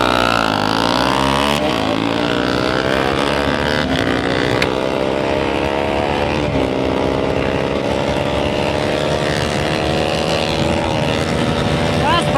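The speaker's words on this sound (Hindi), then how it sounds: "लॉन्च करते हैं बाइक को।" A motorcycle launches hard in a drag race, its loud engine note rising steadily through the revs with a gear change near the start, close and continuous throughout.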